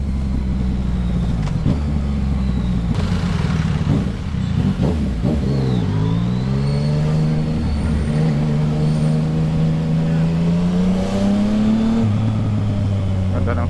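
A Yamaha XSR 900 motorcycle engine revs up and down close by, its loud growl rising and falling across the clip, with a rider's voice speaking over it.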